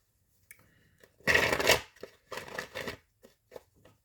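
A deck of Fearless Oracle cards by Rachel Photon is shuffled, with two quick riffling bursts followed by a few light taps and flicks, close and clear in an otherwise quiet room.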